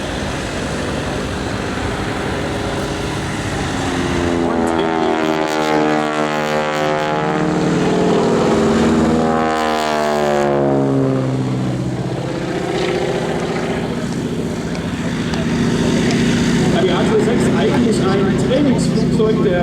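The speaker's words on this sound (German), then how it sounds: "Noch ein wunderschöner, schneller Vorbeiflug." A North American T6 makes a fast low pass at an airshow, its propeller-engine roar rising, sweeping past with a strong pitch drop around the midpoint, then fading away while a commentator talks over it.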